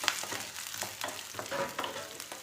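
Cumin seeds sauté in a hot frying pan for moong dal dosa and carrot chutney, a close, steady sizzle and crackle with soft scraping stirs running throughout.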